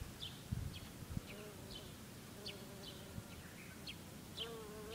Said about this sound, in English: I think he's a form of a bumblebee.